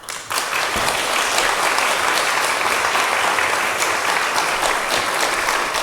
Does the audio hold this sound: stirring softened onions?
no